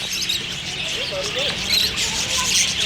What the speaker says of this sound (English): And there are tons of birds in here.